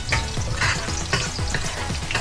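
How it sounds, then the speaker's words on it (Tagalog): Garlic frying in oil in a pan with onion added for bagnet paksiw, giving a loud close sizzle with repeated stirring scrapes and no talking. "Kapag naging fragrant na yung bawang, pwede na natin ilagay itong sibuyas."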